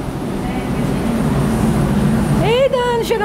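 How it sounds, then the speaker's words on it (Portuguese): Steady, loud aircraft engine drone at the door of a TAM airliner while boarding, continuing throughout, with voices talking over it and a rising, wavering tone near the end. "chegamos na porta do avião"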